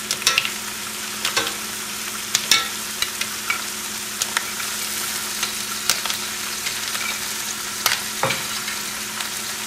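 Mussels sizzle in a hot pan for lobster fra diavolo, with a steady frying hiss and occasional sharp pops and clatters as the shells are placed and stirred.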